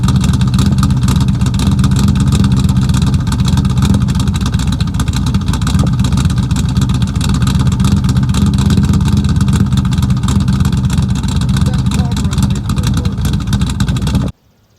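A third-generation Camaro V8 with Hedman long-tube headers and a dual cat-back exhaust with glass packs idles loud and steady nearby, a deep continuous rumble held for about fourteen seconds before cutting off abruptly.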